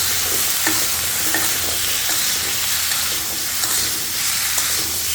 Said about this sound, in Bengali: রসুনগুলো দিয়ে আমি একটু ভালো করে নাড়াচাড়া করে দেবো